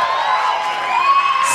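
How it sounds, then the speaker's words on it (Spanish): Studio audience at a Spanish-language television talent show cheering and shouting, a dense crowd roar of whoops and raised voices with a brighter swell toward the end, loud and continuous, no speech over it. "Fuerte el aplauso para Jesús León y Pablo Andrés."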